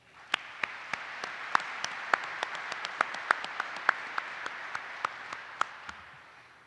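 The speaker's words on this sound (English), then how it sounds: "Can I get a round of applause for her, please?" A ceremony audience applauds the national anthem singer with steady clapping across the room, a few loud nearby claps cutting through, fading out at the end.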